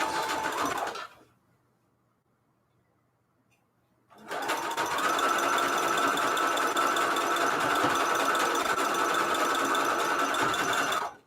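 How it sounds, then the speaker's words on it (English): A sewing machine stitching lace hums in a quick burst, stops for a few seconds, then runs steadily and loudly for a long stretch before halting. "I'm just going here on my little sewing machine."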